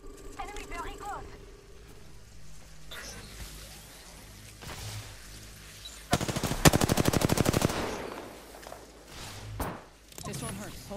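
Automatic gunfire in the battle royale shooter Apex Legends, a dense rapid burst of shots in the middle with scattered shots and movement sounds around it, mixed with game voice lines.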